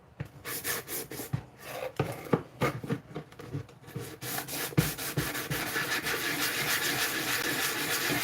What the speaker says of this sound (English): Try to sand this down a little bit here.